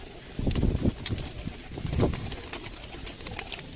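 Pigeons at a backyard pigeon loft in R.S. Pura, Jammu, with a few soft coos and wing flutters over a steady breezy background.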